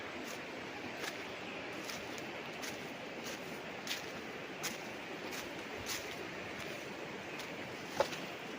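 Constant broad rush of river water beside a farm property in Majayjay, Laguna, steady and fairly close, with faint scattered clicks and no voices.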